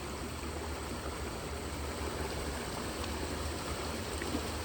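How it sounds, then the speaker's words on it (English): A creek swollen after rain flows fast, a steady broadband rush and babble of water, close and even throughout with no voices. "the sounds of this creek flowing right here."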